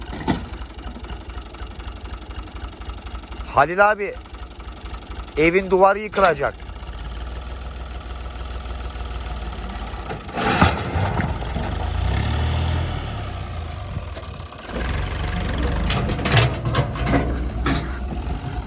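A tractor engine idles steadily as a low, continuous rumble beneath a man's nearby speech, at an outdoor job building a bio-treatment system for dam water; the rumble grows heavier and more prominent in the second half.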